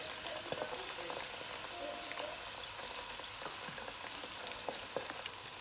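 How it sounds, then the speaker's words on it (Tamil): Onions and green chilies sautéing in hot oil for a crab curry, a steady soft sizzle with light crackles and occasional stirring scrapes, close and fairly quiet throughout. "வெங்காயம் பச்சை மிளகாயை எண்ணெயில் போட்டு நல்லா வதக்கி எடுப்போம்"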